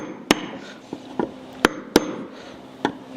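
Hammer taps a chisel worked around a glued joint on a $15,000 table, five or six sharp separate knocks spaced unevenly, close and crisp over a quiet background.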